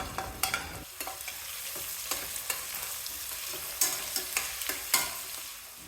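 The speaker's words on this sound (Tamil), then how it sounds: "எல்லாத்தையும் எண்ணெயில் சேர்த்துட்டு ஒரு 2-3 நிமிஷத்துக்கு வதக்கணும்." Green chillies, slit lengthwise, are sautéed in oil for mushroom biryani, giving a steady soft sizzle broken by repeated scraping stirs of a spoon in the pan, close and fairly quiet, with no talking.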